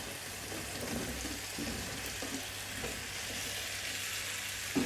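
Raw papaya pieces fry in spice masala with a steady soft sizzle throughout, a few stirring scrapes and a small clink near the end, no one talking.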